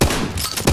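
Rapid gunfire from the starter shotgun in the video game Disdain, a burst of loud, close blasts over a dense, sustained roar with no pause between shots.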